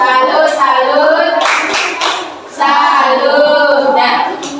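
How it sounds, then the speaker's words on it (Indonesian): Schoolchildren in a classroom do a rhythmic group clap while chanting together in unison; the clapping and young voices are loud and close, with a brief dip mid-way. "Nah, kasih tepuk salus"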